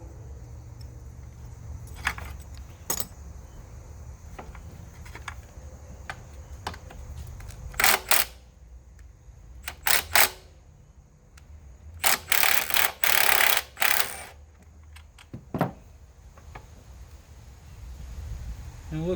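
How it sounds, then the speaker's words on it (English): Cable removal from the kickstarter of a 1987 Kawasaki KE100 motorcycle makes sharp metallic clicks, clanks and rattles in irregular bursts, some close and loud, against a quiet background. "I'm removing the Kickstarter cable."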